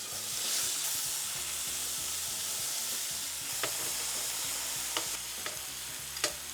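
Sliced leeks and a cut-side-down onion fry in olive oil in a pan, a steady close sizzle with soft stirring scrapes and a few sharp utensil clicks toward the end.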